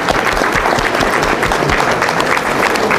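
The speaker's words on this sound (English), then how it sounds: "And let me applaud you." An audience applauds in a dense, steady burst of clapping, loud and close throughout with no talking.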